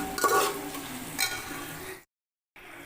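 Onions and spices sauté in a pan as turkey berries are added for a tamarind curry, with a sizzle and scraping stirs that rise and fall before a brief cut to silence, then a quieter sizzle resumes.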